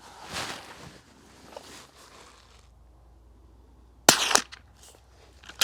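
A Ruger Precision Rimfire fires a single 40 grain lead-nose Remington Thunderbolt .22 LR round, one loud, close crack after several seconds of quiet outdoor background with a few faint rustles.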